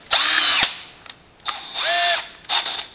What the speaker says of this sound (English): So here's my tool. Step drill, I think, will probably allow me to